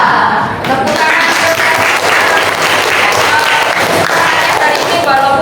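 Schoolchildren in a grade 7 classroom clap together in sustained, steady applause, loud and close, with voices mixed into the clapping throughout.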